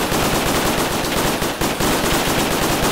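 Rapid, continuous automatic gunfire from hip firing in the Roblox game Bloxfield FPS, loud and close, a dense unbroken stream of shots lasting a few seconds with only a brief dip midway.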